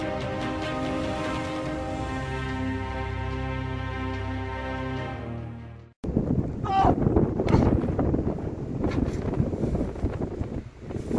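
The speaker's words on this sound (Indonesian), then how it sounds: "Angin menghantam begitu dahsyat." Strong wind hits the Mekongga mountain summit and buffets the microphone in loud, gusty rumbles. Music plays alone for the first half, then the wind takes over.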